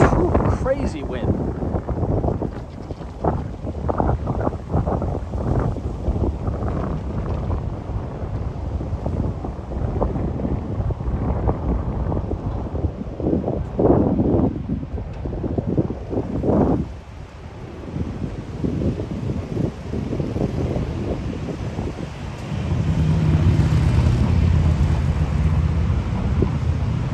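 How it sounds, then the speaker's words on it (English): Strong gusty wind roars across the microphone on a Midtown Manhattan street, a loud continuous rumble that swells and buffets throughout while someone talks over it. "Ooh, that wind is a true crazy wind"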